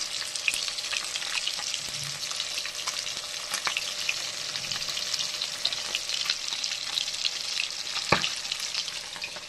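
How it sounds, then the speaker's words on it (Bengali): Tangra fish sizzles in hot oil, a constant bright crackle broken by occasional louder spits and pops. "এই যে ভাজা হচ্ছে"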